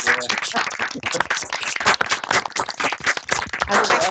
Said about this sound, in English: Everyone's still clapping.